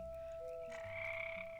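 Frog musicians in a modded Minecraft world play drum, guitar and a wind instrument, producing a faint, soft croaking tune with a held tone and a brief rising note.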